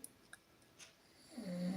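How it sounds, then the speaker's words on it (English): Faint snoring drifts in the background of a quiet indoor room: soft, irregular breathy rasps with a few brief louder snorts, all low in level. "if you hear snoring in the background, please ignore it."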